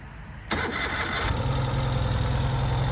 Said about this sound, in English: I'm going to fire up the motorcycle for you.